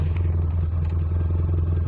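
A manual car's engine idles steadily just after being started, a continuous low rumble with a faint mechanical clatter, heard alone and close by.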